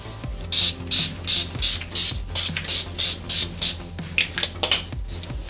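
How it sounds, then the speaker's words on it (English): A series of short, breathy bursts of makeup setting spray, about ten evenly spaced pumps, followed by a few quicker, uneven sprays close to the mic. "I will just be setting her face with the Urban Decay All Nighter Makeup Setting Spray"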